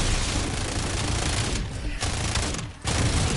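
Loud, dense video game gunfire roars almost continuously as sustained automatic bursts, dropping out only for two brief pauses.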